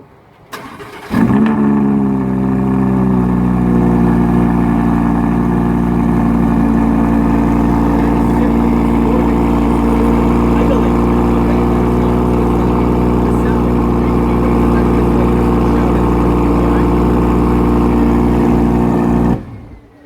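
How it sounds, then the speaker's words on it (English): Audi R8 sports car with a sport exhaust system starting up and held at a steady, loud, close idle-rev drone for nearly twenty seconds, then abruptly cut off. "give it a little bit of gas so that you can hear that electrifying sport exhaust note"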